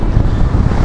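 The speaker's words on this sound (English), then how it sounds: "The wind is strong here." Strong wind in the Icelandic highlands buffeting the microphone, a loud, steady low rumbling roar with no pauses, heard alone.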